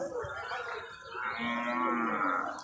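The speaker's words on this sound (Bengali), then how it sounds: "এই যে দেখেন গিট গির জাতের গরুগুলা" A Gir breed cow at a busy cattle market lets out one long, drawn-out moo, close and fairly loud, rising slightly toward the end.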